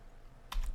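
Keys pressed on a computer keyboard while a password is entered on a login page: a quiet pause, then a short quick run of close, crisp key clicks near the end.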